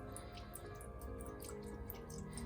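Soy sauce dribbling into a pan of sauce ingredients, a close, steady patter of small drips and trickles without any talking.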